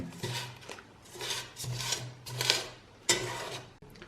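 A spoon scrapes and clinks around a pot while yeast and sugar are mixed, in irregular strokes with brief metallic taps, fairly quiet and close, with no voices.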